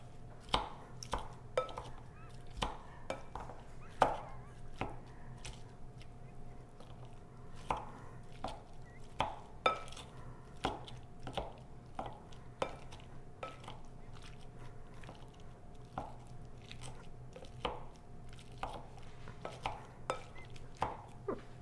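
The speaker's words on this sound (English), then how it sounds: "So it's really good at chopping up ground meat and especially guacamole." Steady rhythmic chopping of avocado with a star-blade chopper for guacamole, a quick series of sharp taps repeating close up for a long stretch, with a faint hum underneath.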